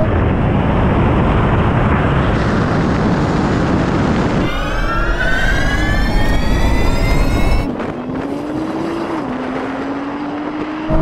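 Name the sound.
drag race launch of rally car, Porsche 911 Turbo S and GTR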